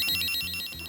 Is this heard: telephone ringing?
yes